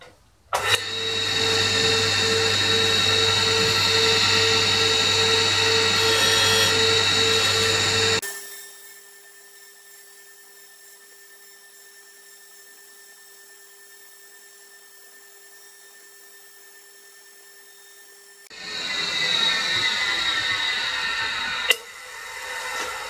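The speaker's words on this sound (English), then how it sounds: "it does take a little bit of time with the surface grinder" A surface grinder taking a light cleanup cut on a lathe slotter part, about eight thou, roars loudly for several seconds, stops into a quiet motor hum, then starts again near the end.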